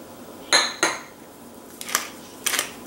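Flour, parmesan and poppy seeds are mixed in a bowl, giving four short clinks and scrapes of a utensil against the dish in quick pairs, close and clear in a quiet room.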